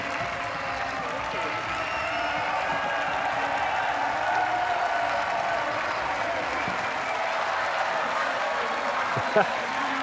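A crowd at a European Championships triathlon in Munich applauds and cheers for a sprint finish, a steady wash of clapping and noise heard from a distance under a commentator's talk.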